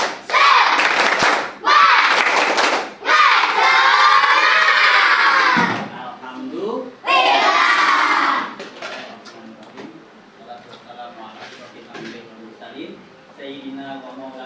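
Schoolchildren in a classroom do a rhythmic 'tepuk semangat' clapping cheer, loud bursts of chanted shouting mixed with claps in short phrases, then settling into quieter scattered chatter and a few stray voices.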